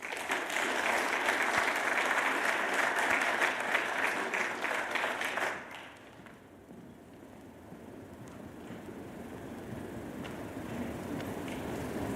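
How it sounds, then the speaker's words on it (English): Sustained applause from a university symposium audience for about five seconds, then it drops away to a low room hum that gradually swells a little. "So please give a round of applause to Grant"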